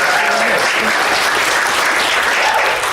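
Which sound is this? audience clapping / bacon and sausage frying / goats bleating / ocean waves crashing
audience clapping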